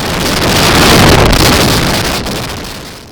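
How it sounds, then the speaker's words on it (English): Strong wind buffeting the microphone on an Iceland sea kayaking trip, a loud continuous roar that swells and then eases slightly toward the end. "It was windy."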